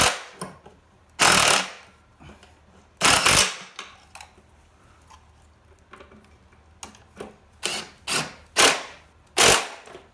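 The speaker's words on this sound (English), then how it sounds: "Now I'm just going to take my impact and tighten her up." An impact wrench tightens the skid shoe bolts on an MTD snow blower, firing several loud, close rattling bursts separated by pauses, with smaller clicks and shorter hits later on.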